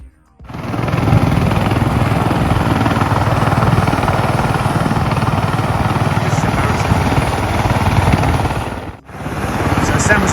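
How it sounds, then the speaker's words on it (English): Helicopter in the New Zealand backcountry near Greenstone Hut on the Te Araroa trail: a steady, loud rotor and engine drone fills nearly the whole stretch, dipping briefly before resuming. "And the helicopter did come"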